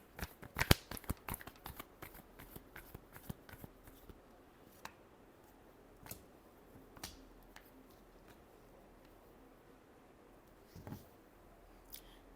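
Tarot cards shuffled by hand in a quiet room: a dense burst of crisp riffling clicks near the start, then scattered softer flicks and taps spread over the rest, close and fairly faint.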